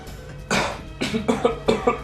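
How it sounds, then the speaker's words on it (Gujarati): A person coughs repeatedly, one harsh cough followed by a short run of several quicker coughs, close by. "તમને આટલી બધી ઉધરસ આવે છે"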